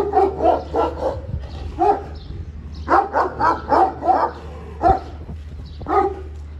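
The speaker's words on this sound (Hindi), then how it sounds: "बड़ा खतरनाक कुत्ता है" Bully dogs at a dera in Mirpur, Azad Kashmir bark in repeated bursts of two to four loud, fairly close woofs separated by short pauses, with no talking over them.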